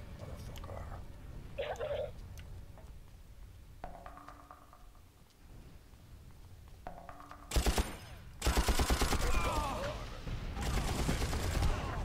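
Light machine gun fire in Far Cry: a sharp burst at about eight seconds, then sustained loud rapid automatic fire with ringing tails and scattered impacts continuing to the end, with game pings and sounds earlier.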